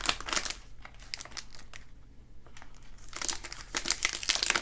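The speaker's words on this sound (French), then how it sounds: "on va aller ouvrir encore ce petit emballage" A small plastic package for an Apple TV remote case is opened close up, with bursts of sharp crinkling and crackling. A short quiet pause falls in the middle before the rustling picks up again.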